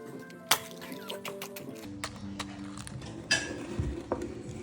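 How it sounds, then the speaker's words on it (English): Eggs cracked into a bowl while making oatmeal cookies: sharp shell taps and clinks against the bowl, a soft drip of liquid and light utensil scrapes, fairly close and quiet. "Go ahead and crack your eggs and remove any shells that might have dropped in."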